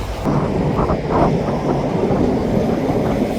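Train passing along a railway, a loud continuous rumbling roar with rattling texture, heavy and close with wind buffeting, no voices over it.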